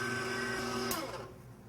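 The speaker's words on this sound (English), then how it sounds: "On low speed again, mix it just until you see a few particles of flour remaining." An electric mixer runs on low speed through brownie batter, a steady whirring motor hum that drops off and fades toward the end, close and moderately loud with no talk.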